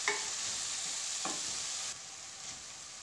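Cauliflower Manchurian sautéed on a low flame after soy sauce and other sauces go in: a continuous soft sizzle with a few light stirring scrapes, no voices.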